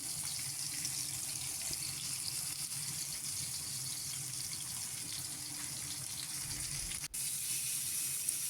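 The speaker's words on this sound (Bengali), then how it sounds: "আমি নুন হলুদ মাখিয়ে আর ভেজে নিচ্ছি" Bhola fish coated in salt and turmeric frying in oil, giving a steady, close hiss of sizzling that runs throughout with a brief dip near the end.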